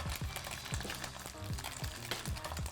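Branzino fillet laid skin-down in a hot pan, crackling with a steady, close sizzle that holds throughout, broken by a few low knocks and scrapes as the fish is pressed flat.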